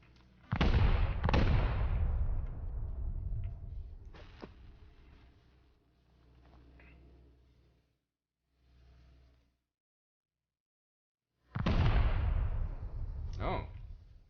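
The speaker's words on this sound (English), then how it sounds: "it takes about 5 actually, satchel charges, to actually finish that off" Two heavy satchel charge blasts in the survival game Rust, each a loud booming burst with a long rumbling decay, separated by quieter stretches and near silence, with a voice speaking in between.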